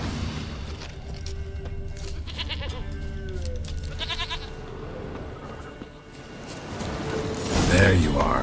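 A goat bleats in The Witcher 3 amid game ambience, a few wavering cries partway through under a voice, followed by a louder thump near the end.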